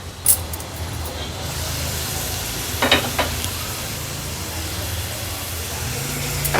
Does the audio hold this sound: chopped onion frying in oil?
yes